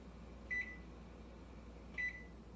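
An oven control panel gives two short bright beeps about a second and a half apart while the preheat is being set, clear over a low steady room hum.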